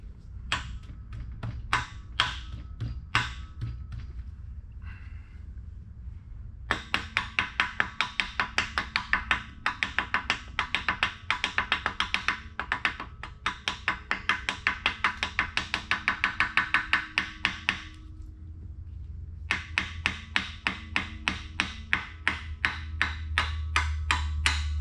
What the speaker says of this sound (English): Shouldn't be using my screwdriver as a hammer